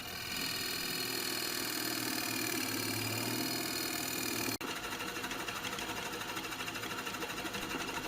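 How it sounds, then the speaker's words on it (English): A 3-inch Forstner bit bores a hole in exotic wood for the nut of a homemade bench vise, a steady machine whine that cuts off abruptly partway through and leaves a rougher, noisier hum. "it's a good idea to use a Forstner bit to bore the bulk of it out first"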